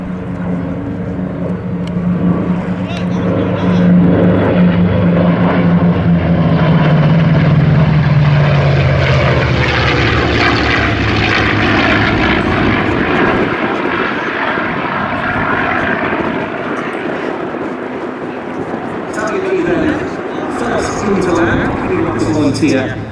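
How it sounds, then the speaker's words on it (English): A P-47 and two Mustang fighter aircraft roar past at an airshow at Duxford, a loud sustained propeller-engine drone swelling and fading with pitch shifting, with a commentator talking over it. "Here come the fighters once more, P-47 and 2 Mustangs."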